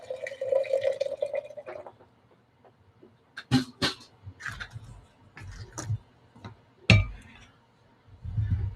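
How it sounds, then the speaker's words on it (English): Hot water trickles and splashes onto ground coffee in a Chemex pour-over brewer in soft irregular pulses, with quiet drips and small clinks in between. "You just kind of add a little bit of water, just like that."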